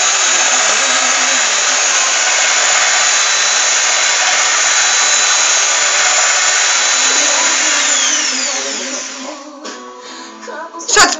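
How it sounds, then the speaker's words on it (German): A power drill whips cream in a bowl with a loud, steady high-pitched whine held for about nine seconds, then slowing and sputtering with rattling before stopping. "wer nimmt heutzutage schon eine Bohrmaschine?"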